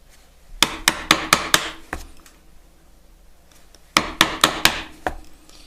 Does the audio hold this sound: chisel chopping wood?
yes